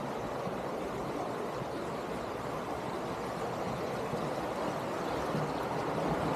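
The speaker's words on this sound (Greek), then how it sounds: "Τρέχομενα νερά." A small river runs near the village of Orma in Aridaia, Pella, beside plane trees, with a steady, dense rush of flowing water filling the whole stretch.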